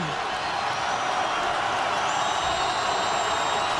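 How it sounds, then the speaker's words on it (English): A college football stadium crowd roars in a constant, loud wall of noise at a night game, with an announcer talking over the din and a faint whistle-like tone held in the background. "And the crowd is loud."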